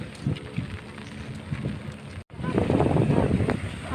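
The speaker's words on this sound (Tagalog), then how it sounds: "Maulan. Maulan dito." Rain falls outdoors in Bicol, Philippines, as a broadband patter mixed with wind buffeting the microphone, briefly cutting out and then returning louder and denser.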